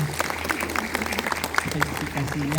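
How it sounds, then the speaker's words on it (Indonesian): Students clapping at a school orientation ceremony in Indonesia, a steady patter of applause mixed with a voice and crowd murmur. "ya tepuk tangan"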